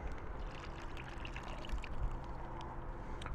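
Spiedie chicken marinade pours steadily into a container for a chicken sandwich, a soft continuous liquid trickle and splash at close range with no talking.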